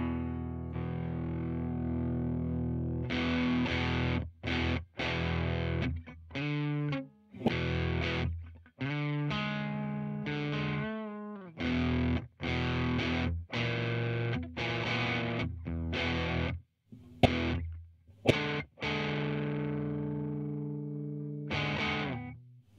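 Electric guitar played through an Arion Metal Master overdrive distortion pedal, distorted chords and riffs ringing out in phrases separated by short pauses, upfront and sustained, with no speaking.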